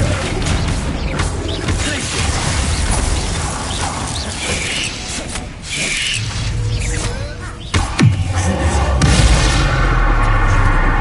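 A Bombarda blasting spell in Hogwarts Legacy goes off amid loud, dense game noise: grinding, rumbling mechanical texture, then a sharp burst near the end followed by a heavy booming roar.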